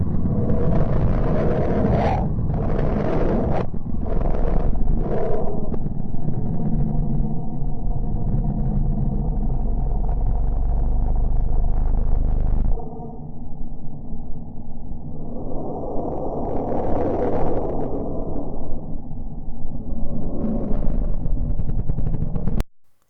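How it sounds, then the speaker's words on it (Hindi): Sonified rendering of planet Mercury: a dense droning rumble with layered tones, a few pulsing bursts early, then a shift to a softer hollow drone midway before cutting off abruptly. "बुध ग्रह का साउंड।"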